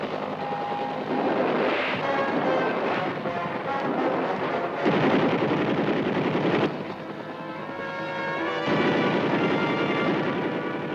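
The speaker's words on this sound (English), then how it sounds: "Forces firing from the cover of buildings are neutralized." Combat gunfire in a military setting with helicopter gunships, a dense, continuous roar of shots and blasts that swells and dips over the span, loud and rough, with no speech.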